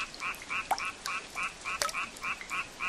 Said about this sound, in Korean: 개구리 우는 소리